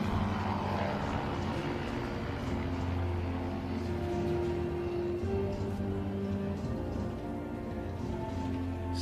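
A propeller aircraft tows a glider in a roll-on tow during airshow practice at Leszno, its engine a continuous, steady droning hum with a strong low tone, heard from a moderate distance throughout.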